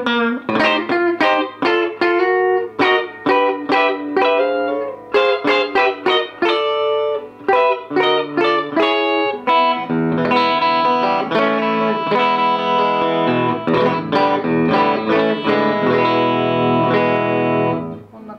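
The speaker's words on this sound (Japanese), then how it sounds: "リアはね、こういうちょっとパキッとした音なんで、そんなにこういうタイプだと歪まないのかなという印象ですね" O.Craft koa Telecaster electric guitar played through its rear pickup into a distorted amp, bright crunchy chords strummed in rhythmic bursts, then sustained ringing notes and chords, loud and close with no talk.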